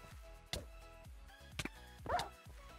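A tamed dog barks in a Minecraft survival-games match, a few short sharp barks spaced apart over faint game sounds, with no talking.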